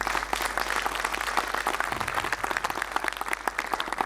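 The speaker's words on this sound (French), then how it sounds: "On applaudit nos célébrités quand même, s'il vous plaît ?" A keynote audience at a developer conference in Lille gives a round of applause, a fairly distant, moderate wash of clapping throughout.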